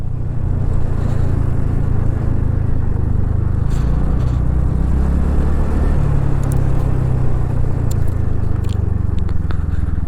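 A vehicle climbing a steep road up Doddabetta Peak near Ooty produces a loud continuous engine rumble with wind buffeting and occasional rattles and clicks, and no one speaks.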